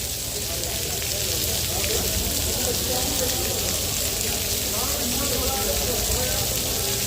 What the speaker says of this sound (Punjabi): ਆ ਗਿਆ ਫੁੱਲ ਮੀਂਹ ਪਈ ਜਾਂਦਾ ਦੇਖੋ ਸਾਹਮਣੇ